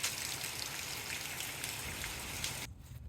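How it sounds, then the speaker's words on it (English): Steady rain falling outdoors, a dense close patter of drops on surfaces that continues evenly and then drops off abruptly near the end, with no voices. "we've got a little bit of a break and some rain"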